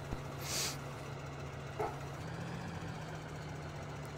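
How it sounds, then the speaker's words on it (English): A tractor engine idles at a low, steady rumble with a faint mechanical knock underneath. A brief hiss and a couple of small clicks rise over the constant hum. "So we'll hop in our tractor here."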